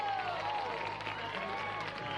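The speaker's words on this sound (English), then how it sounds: "Please give a big round of applause to our band and to the Lincoln County Falcon Band." Crowd applause at a high school marching band competition, with the Columbia Central High School and Lincoln County Falcon bands, sounds like a steady distant wash of clapping under faint talk.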